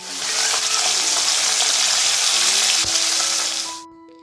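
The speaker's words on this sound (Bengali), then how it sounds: "এই যে ঘরে ছিল ভোলা মাছ তো এই মাছটাই আমি সুন্দর করে রান্না করে নেব" Bhola fish frying in a pan, a loud, steady close-up sizzle that holds for several seconds before cutting off abruptly.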